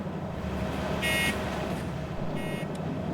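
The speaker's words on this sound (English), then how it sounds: "It's called a bell, but it sounds like an alarm." A train's warning bell rings as two short electronic, alarm-like tone bursts, separated by about a second of low rumbling background, with no talking.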